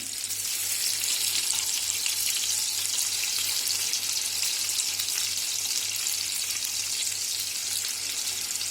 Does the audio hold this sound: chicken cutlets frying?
yes